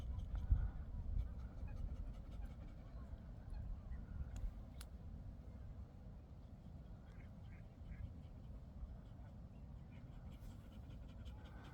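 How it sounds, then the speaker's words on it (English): Geese honking near a pair of swans on water at a nature park in summer, a few faint calls rising briefly over a steady low rumble of outdoor wind and ambient noise. "Interesting how these two swans seem to have a flotilla of geese behind them."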